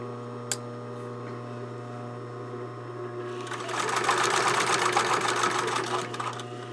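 A sewing machine stitches a dart in a blouse, starting after a few seconds of quiet mains hum with a single click, then running in a close, steady mechanical chatter.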